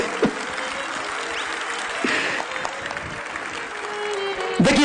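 A seated audience in a lit hall at a Chandigarh program bursts into sustained applause, dense clapping continuing steadily throughout with a swell near the end.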